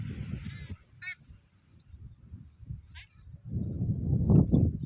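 Geese-like fowl gathered in a farm field to drink water give a few honking calls, brief and spaced apart, over rustling and low background noise.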